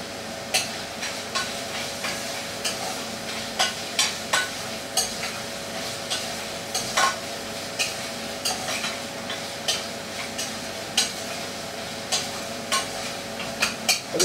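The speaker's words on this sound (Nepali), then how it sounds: "मैले त्यो मसला फ्राई गरेको मसला अब यसमा मिसाइदिएँ है" Fried spices being stirred into a simmering Nepali curry of maseura and taro leaves, with a steady gentle sizzle and regular scraping knocks of the spoon against the pan in a slow, even rhythm.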